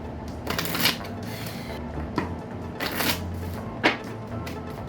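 Oracle cards are shuffled by hand in several quick riffling bursts, crisp papery flutters separated by short pauses, close and fairly quiet.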